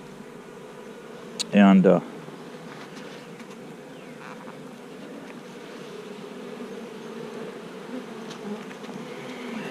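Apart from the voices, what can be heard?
honeybees buzzing during a beehive frame inspection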